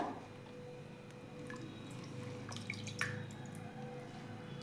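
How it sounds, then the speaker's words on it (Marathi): Finely chopped sorrel leaves are washed in water for a sour lentil dish, giving soft, quiet sloshing and dripping with a few light splashes, close by and without talk. "आता आपण बारीक कट केलेला चुका त्यामध्ये घेऊयात टाकून आणि चुक्याला पण छान धुवून घ्यायचं"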